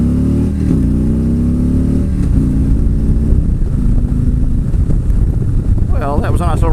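A Harley motorcycle pulling up through its gears, engine note climbing and dropping with each shift, loud and close, with wind rush and a brief voice near the end.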